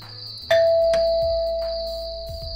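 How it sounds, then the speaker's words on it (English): A loud electronic doorbell in Minecraft chimes a single ding-dong, its tone ringing out and slowly fading against a quiet background. "I guess I should ring the doorbell."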